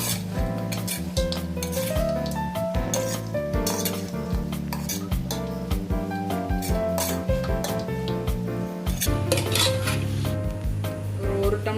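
Chicken being stirred with turmeric in a pan for chicken chukka, with steady clinking and scraping of a utensil against the pan over a soft sizzle, continuous and close, with no talk.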